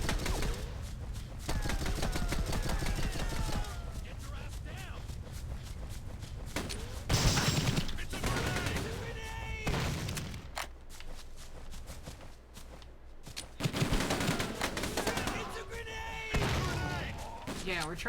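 Video game gunfire, including a square-barrel shotgun, crackles in loud repeated bursts through most of the stretch, with voices talking over the shots.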